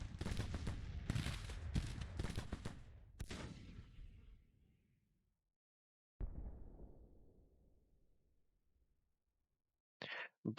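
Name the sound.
gunfire in Grand Tactician The Civil War video game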